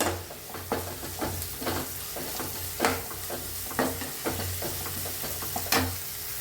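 Curry leaves and onions frying in a pan while being stirred, a continuous sizzle broken by regular spoon scrapes and taps about once a second, close and clear with no speech.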